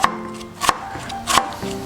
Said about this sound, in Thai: หอมใหญ่ก็หั่นเป็นเส้นยาว